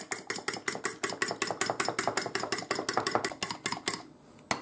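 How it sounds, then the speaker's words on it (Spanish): Eggs beaten in a bowl with a fork or whisk, a fast, steady run of about twenty sharp clinking strokes, close and rhythmic, slowing and stopping near the end. "y ahora vamos a batir los huevos. Batimos los huevos."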